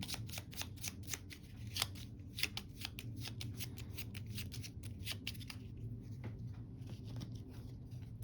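Gloomhaven game cards being shuffled by hand close up, a quick run of crisp riffling flicks for the first several seconds that fades into quieter handling over a low room hum.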